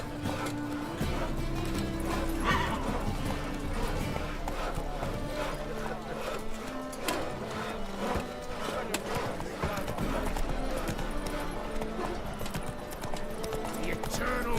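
Horse Roach galloping in the video game The Witcher 3, rapid rhythmic clip-clop hoofbeats running continuously and close, with game music and some speech underneath.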